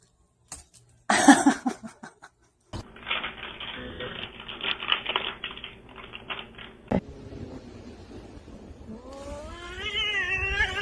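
A kitten meows and cries in a few short, strained calls with rustling and tapping in between, close and fairly quiet, the last cry rising and wavering.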